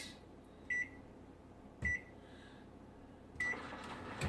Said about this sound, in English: throw them in the microwave. We're going to set it for 6 minutes